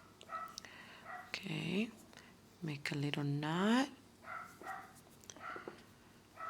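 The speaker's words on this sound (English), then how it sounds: "Oh, my dog doesn't sound happy." A dog barks and whines unhappily in the background, several rising yelps and drawn-out whimpering cries breaking through, while someone talks quietly at home during needle tatting.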